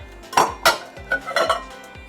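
A spoon clinks and knocks against a bowl as hung curd and other ingredients for mango shrikhand are mixed, about five distinct close taps in an uneven rhythm over a quiet background, with no talk.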